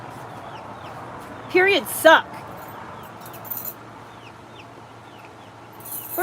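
Backyard chickens at feeding time give a couple of short, sharp clucks close by amid a quiet outdoor hush, with a person speaking briefly.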